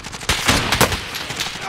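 Automatic gunfire in the battle royale game Call of Duty Warzone, with rapid bursts of shots close by, steady and loud across the short moment.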